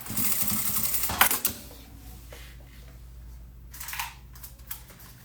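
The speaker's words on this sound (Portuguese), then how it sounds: "Agora aqui eu vou fazer uma costurinha de segurança pra fechar o zíper." A sewing machine stitches a securing seam across the zipper closure of a fabric handbag, giving a brisk mechanical whir that starts busy and then settles into a quieter, steadier hum with a few small clicks.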